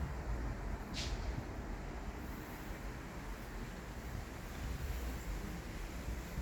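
Steady roaring wind buffets the microphone throughout, a constant loud rush with no talking.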